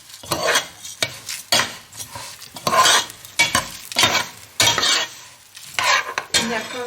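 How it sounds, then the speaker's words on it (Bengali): Rice being stirred as it fries in a pan with a little oil, a close, scraping rhythm of strokes with brief pauses, each stroke carrying a light sizzle and clink of the utensil against the pan; no voices. "এইভাবে একটু নাড়াচাড়া দিয়ে ঢালবো জল"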